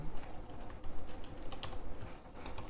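Quick, steady typing on a computer keyboard while writing code in Android Studio, close and clear with no voice.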